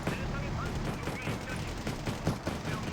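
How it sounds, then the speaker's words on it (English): Autocannon fire in the war strategy game Wargame Red Dragon, rapid overlapping bursts of gunfire forming a dense continuous barrage, with a voice talking over it. "Your autocannon ammo is going out fast."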